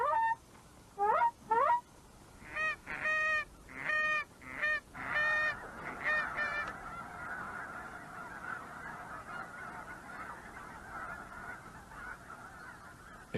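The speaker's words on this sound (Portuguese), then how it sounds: "Os gansos sentem-se atraídos." Geese honk in a quick series of loud calls, then a more distant flock keeps up a steady, overlapping chorus of honking.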